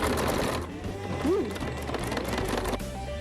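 A sewing machine stitches a fabric bag, a steady mechanical whirr running through the whole stretch, close and fairly loud, with a brief tonal squeak partway through.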